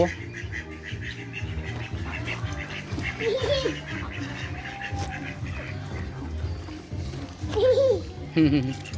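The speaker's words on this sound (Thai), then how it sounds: "เป็ดหัวเขียว" Several nasal mallard duck quacks come in short bursts over steady background music and chatter at a farm, the loudest near the end.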